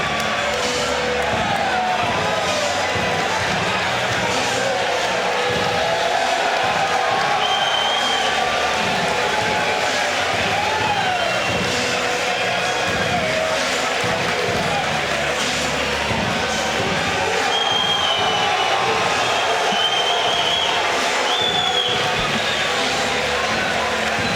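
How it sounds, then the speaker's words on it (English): Boxing arena crowd at the International Paratroopers Brawl cheering as a fighter dances into the ring, a dense continuous roar of voices with whistles and shouts, steady throughout. "Let's listen to the crowd as he dances his way into the ring."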